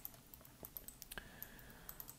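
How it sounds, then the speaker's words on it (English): Several quick, crisp clicks from someone pressing keys on a computer keyboard while working in 3D modelling software, scattered irregularly and heard close up against a quiet background. "Click H on my keyboard and that it hides."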